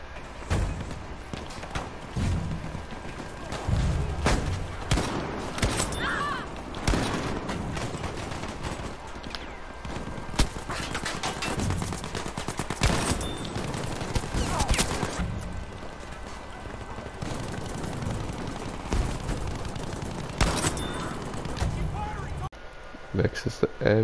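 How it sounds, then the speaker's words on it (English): Repeated booming blasts from a 12G automatic shotgun in Battlefield V, fired in quick clusters amid other battlefield gunfire, with someone talking over much of the action. "Moving on to the 12G automatic."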